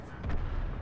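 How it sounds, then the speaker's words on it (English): Tank cannon fire from World of Tanks, a single loud, heavy boom with a deep rumbling tail that fills the short moment, with no talking. "Rip is still dumping shells into whatever tank is in there"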